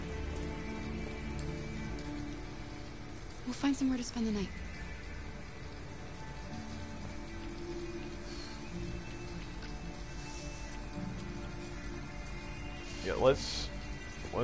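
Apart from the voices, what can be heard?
rain in the video game Detroit: Become Human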